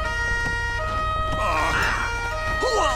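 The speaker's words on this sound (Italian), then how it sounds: "ho montato le sirene" A police car siren wails steadily and loudly in GTA 5, with sweeping tones over a low engine rumble. A voice talks faintly underneath.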